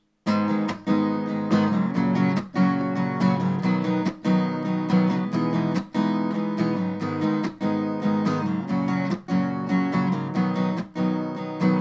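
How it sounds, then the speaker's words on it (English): Acoustic guitar plays a muted strumming pattern for a song, percussive muted strokes cutting between chords, loud and close, no talking. "he uses a muted strumming pattern."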